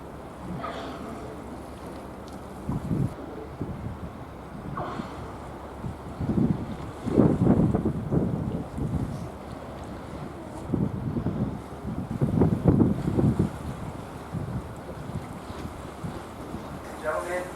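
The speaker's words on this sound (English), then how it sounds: "you can hear the exhaltation as they spout" Orcas spouting off the Aleutian Islands, heard from a cruise ship deck as a few breathy whooshes of exhalation rising over steady wind noise and lapping water, with distant voices murmuring.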